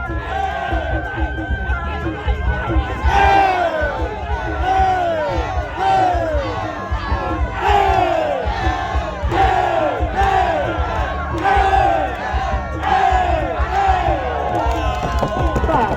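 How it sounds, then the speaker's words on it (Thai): Spectators at a Muay Thai fight chant and yell in loud, rhythmic bursts of cheering, repeated surges of massed voices rising and falling over constant crowd noise. "บรรยากาศเสียงเชียร์"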